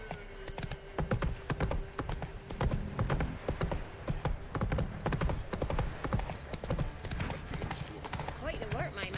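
Roach, the horse in The Witcher 3, gallops with steady rapid hoofbeats and an occasional snort, mixed with game music and a voice talking over the action.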